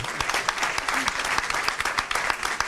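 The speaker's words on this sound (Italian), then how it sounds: "bravo Samuel, e allora l'applauso è tutto per te." Warm applause for a young 50 m freestyle swimming gold medallist, a steady patter of clapping from a nearby audience, with voices murmuring underneath.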